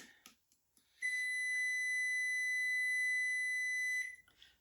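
An air fryer preheating for steak fries gives one long, steady electronic beep lasting about three seconds, clear and tonal, with a few faint clicks and rustles before it.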